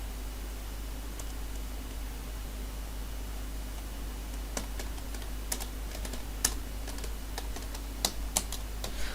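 Typing on a computer keyboard during a software setup walkthrough, a scatter of sharp, fairly faint key clicks that grow more frequent toward the end over a steady low hum, with no talking.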